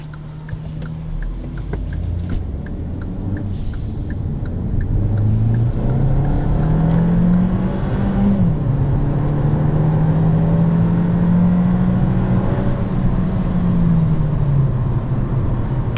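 The turbocharged engine of a Kia Seltos with a dual-clutch transmission accelerates, a steady hum that rises in pitch, briefly drops at a gear shift and then climbs again, heard from inside the car.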